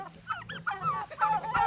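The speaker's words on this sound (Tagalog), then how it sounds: "Daming mga pabo." Turkeys gobble on a gamefowl breeding farm, a few quick warbling, throaty calls in short bursts, close and moderately loud.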